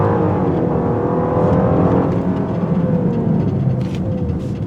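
A 2025 Genesis GV80's V6 engine drones and builds as the SUV accelerates, with rising whirring tones and road noise, loud and close from start to finish.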